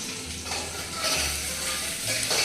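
Mutton and prawns cooking in a home kitchen, with a continuous sizzling, frying hiss over low hum and intermittent scraping and clinking from stirring, close by.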